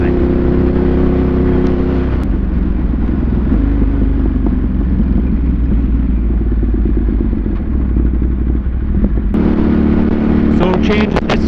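Motorcycle fitted with an SC Project exhaust, heard while riding: a loud continuous engine drone with rising and falling revs, wind-buffeted and close, with a rider's voice mixed in.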